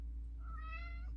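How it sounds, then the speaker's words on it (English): A single short cat meow rises and falls over about half a second, close and fairly faint, set against a steady low hum with no talking. "that's the cat."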